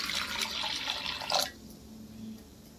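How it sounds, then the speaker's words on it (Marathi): Water splashes and pours into a pot of washed ingredients for about a second and a half, then stops abruptly, leaving quiet room tone. "पाणी टाकते आता त्याच्यात"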